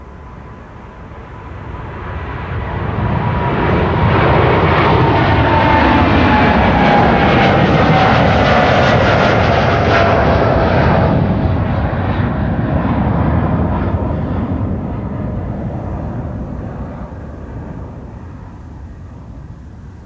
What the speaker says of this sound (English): this is the second KLM Dreamliner